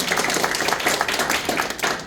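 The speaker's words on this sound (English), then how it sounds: "So a round of applause." Audience giving a quick round of applause at a comedy eulogy performance, a brief burst of dense, close clapping from a room of people with no talking over it.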